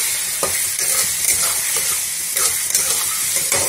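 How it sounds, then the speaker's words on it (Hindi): Tomatoes frying in a pan over a high flame give a steady, bright sizzle, with a few soft stirring scrapes on top, close and continuous. "तब तक इसको फ्राई करना जब तक टमाटर का जो ऊपर का छिलका है ना वो निकल ना जाए।"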